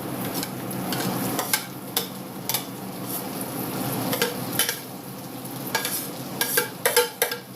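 Onions fry in a pan for chicken tikka masala, a low steady sizzle broken by repeated clinks and scrapes of a utensil stirring against the metal, the knocks growing busier toward the end.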